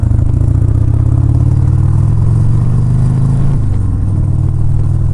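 Harley Sportster 74ci motorcycle riding on a winter road in East Tennessee, loud steady engine drone with a gear change and easing of revs near the end, under heavy wind rumble.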